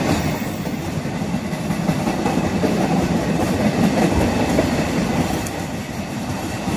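A long empty coal freight train rumbles past on the railway, loud and close, with a steady roar of wagons and faint clattering wheels.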